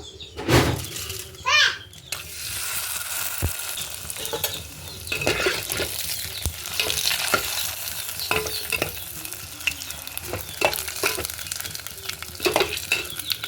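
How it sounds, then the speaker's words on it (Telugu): Sun-dried vadiyalu fry in hot oil with a steady broadband sizzle, broken by sharp clatters and a few louder crackles from stirring; a voice is briefly heard near the start. "ఇక్కడ వడియాలు వేయంగానే పొంగుతున్నాయి"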